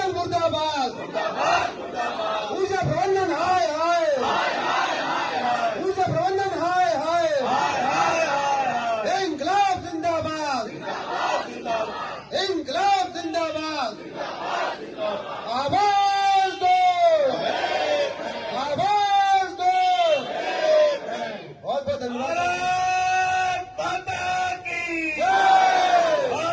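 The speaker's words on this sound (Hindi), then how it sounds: "हमारे विभाग के कर्मचारी कितनी ज़ोर से और अपनी ज़बरदस्त तरीके से विरोध" A crowd of protesting electricity department employees chants slogans in loud, rhythmic call-and-response, one voice leading and many answering in repeated shouted bursts, close and forceful throughout.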